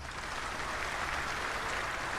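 Snooker crowd at a Barnsley venue clapping after a shot, a steady, dense patter of applause holding at an even level for about two seconds with no voices over it.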